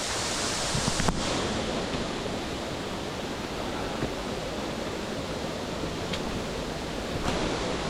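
Burn rushing through a forest, a steady broadband wash of flowing water heard close and unbroken throughout, with a couple of faint knocks.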